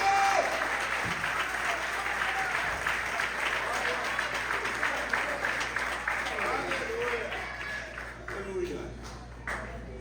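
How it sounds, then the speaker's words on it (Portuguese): Church congregation at a family worship service applauding steadily throughout, a dense wash of clapping with some voices mixed in, moderately loud and even in level. "Você pode aplaudir o Senhor"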